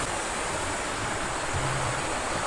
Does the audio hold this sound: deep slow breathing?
no